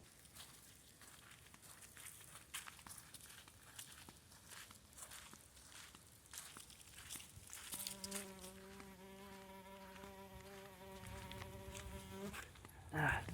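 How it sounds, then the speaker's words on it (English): Mosquitoes whine around a person's head on a trail at Lake Louisa State Park, Florida, a faint thin buzz rising to a clear sustained hum midway, with quiet footsteps underneath. "So I can hear the thunder and mosquitoes in my hair, around my head."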